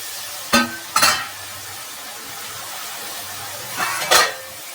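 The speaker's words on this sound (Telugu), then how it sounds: "అన్నీ కలిపి ఒకసారి కలుపుదాం." Broad beans and tomatoes frying in a pan are stirred, with a constant low sizzle broken by a few sharp scraping strokes of the spoon against the pan, no speech.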